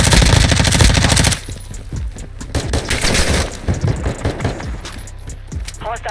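Rapid bursts of gunfire from another player in an online shooter game, a dense loud volley at first, then scattered sharper shots and clatter continuing over several seconds.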